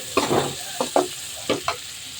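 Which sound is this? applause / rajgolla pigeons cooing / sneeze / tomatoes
tomatoes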